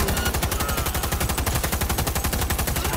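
Rapid automatic gunfire from a video game, Cyberpunk 2077, rattles in a fast, even stream of shots that runs continuously for the whole stretch.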